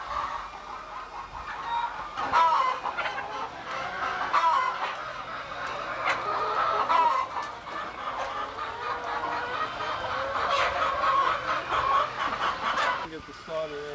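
Many laying hens clucking and squawking together inside a commercial chicken house in Nigeria, a busy continuous chorus with occasional sharper calls, fairly close.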